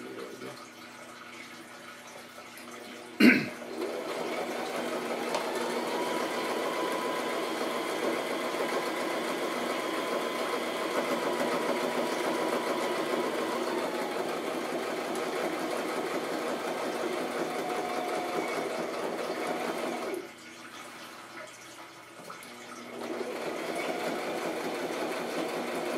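A sewing machine runs in a long continuous stitching burst along a handbag pocket, pausing briefly near the end before resuming, with a sharp click at the start.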